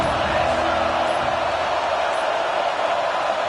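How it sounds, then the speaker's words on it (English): Crowd noise at a football stadium during Oregon vs Texas A&M, a loud, steady roar of many voices sustained for several seconds with no break. "This crowd ready to make its presence known."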